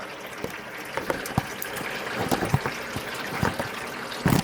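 Transmission fluid drains from the pan of a 2013 GMC Sierra 1500 in a steady, close trickle and splatter, continuous throughout with small irregular drips and clinks.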